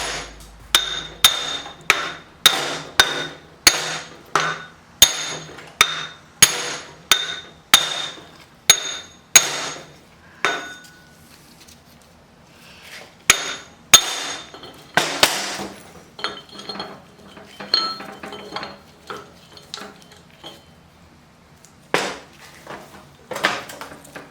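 A hammer taps a differential ring gear loose with a long run of sharp metallic strikes, roughly evenly spaced and ringing, up close with no talk, then slows to scattered clinks and knocks.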